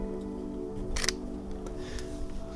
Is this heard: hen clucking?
no